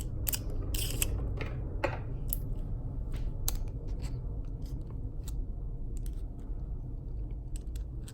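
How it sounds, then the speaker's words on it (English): Small screw backed out of a Mini Revo RC car with a hand driver, sparse light clicks and ticks over a steady low hum, close and quiet, busier at the start and then thinning out. "Then gonna remove that 1 screw."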